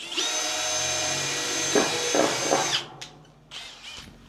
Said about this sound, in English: we're going to go ahead and get a step drill